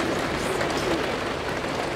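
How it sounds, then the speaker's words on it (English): A heavy, dense downpour roars steadily, with rain drumming on surfaces and no voices. "It's raining so hard."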